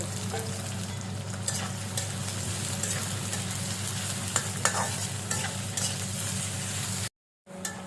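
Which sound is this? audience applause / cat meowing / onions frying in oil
onions frying in oil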